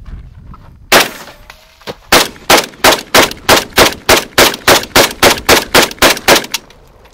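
A Chinese AK-47 pattern rifle, the Mac 90, fires one loud close shot, then after a pause a steady string of about fifteen evenly spaced shots, sharp and punchy with no talking.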